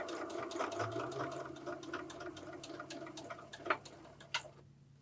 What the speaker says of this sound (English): So now we're going to stitch right on that line.